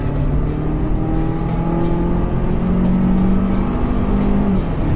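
A 2015 Volvo XC60 engine revving up to around 5,500 RPM, a steady rising engine drone with sustained tones heard from inside the car, continuous and fairly loud, with no talk.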